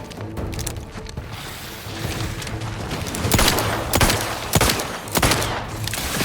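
Gunfire in the video game Outer Worlds 2, a series of sharp shots and bursts in quick succession over a steady background, loud and near, with no talk.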